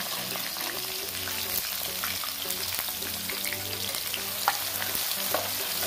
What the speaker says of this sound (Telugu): వేసుకుని బాగా గోల్డెన్ బ్రౌన్ కలర్ వచ్చేటట్లు మగ్గనివ్వాలండి.